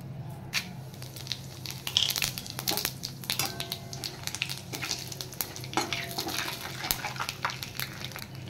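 Whole dried red chillies, bay leaf and cumin seeds sizzle and crackle in hot oil with a dal and prawn dish underway, close up, with frequent sharp pops and some stirring scrapes over a steady fry.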